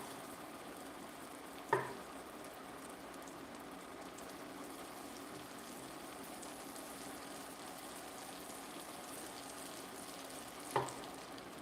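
Butter boiling and sizzling in a frying pan while cooking salmon pasta and steak, a steady low fry hiss with two brief sharp clicks, no talking.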